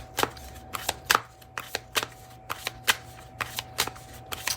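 A deck of oracle cards, the 5D Love Messages deck by Calico Moon, shuffled by hand with a quick run of crisp slapping riffles at an irregular rhythm, close and fairly quiet.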